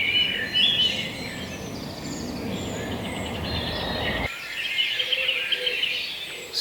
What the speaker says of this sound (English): Still a lot of blackbirds.